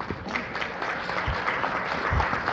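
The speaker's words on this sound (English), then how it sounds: "Give them a round of applause." A dense, steady wash of audience applause at a city council presentation ceremony, many hands clapping together at an even, fairly loud level with a few low thumps underneath.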